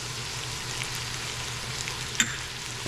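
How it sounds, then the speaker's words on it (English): Onions, green chili pepper and seasonings sizzling steadily in a pan, a close, continuous hiss with a faint low hum and a brief clink of stirring near the end. "give that a good mixing and kind of let it simmer here."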